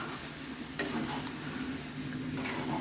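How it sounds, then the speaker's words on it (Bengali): Chicken feet curry being stirred in a pan just after ginger paste and a splash of water go in, giving a steady close sizzle with scraping stir strokes and a brief louder scrape midway. "এইভাবে নাড়িয়ে নিচ্ছি।"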